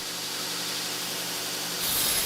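Steel edge of a hand-forged knife, made from three-layer bloomery steel, ground down on a grinder in a steady, loud, continuous hiss that swells slightly near the end, with no voices.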